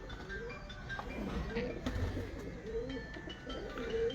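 Breeding pigeons of an Ababil bloodline coo in a loft, low soft warbling calls repeating through the clip with other birds nearby and faint background talk.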